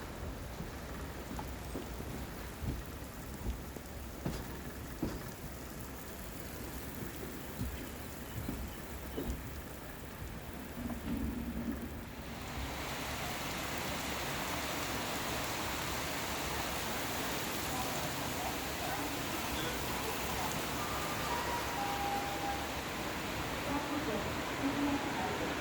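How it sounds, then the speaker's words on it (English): Heavy monsoon rain pours down around a second-class train carriage stopped at a platform on the Mangalore to Trivandrum line, a steady dense hiss that swells louder midway and keeps roaring, with occasional soft rumbles beneath. "Well, it has begun to pour again."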